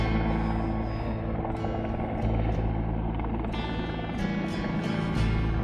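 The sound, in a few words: helicopter flying overhead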